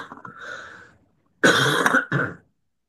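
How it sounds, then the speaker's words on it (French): A person clears their throat, then coughs in two hard, close bursts after a brief silence, with no speech in between. "Et de tousser."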